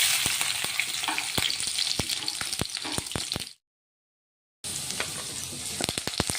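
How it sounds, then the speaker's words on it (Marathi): Cumin, mustard seeds and finely chopped garlic sizzle in hot oil, a steady crackling fry punctuated by sharp seed pops, broken by a brief silent gap before the sizzling resumes. "तर आता तेल गरम झालेलं आहे, त्याच्यात जिरे मोहरी टाकून घेऊ आपण।"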